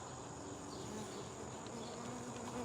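Honeybees hum in a faint, steady drone around frames being worked during honey extraction, with no voices.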